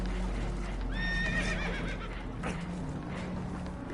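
Spooked horses in Red Dead Redemption 2 let out a loud, wavering whinny and neigh, with hooves clip-clopping beside it over a steady background rumble.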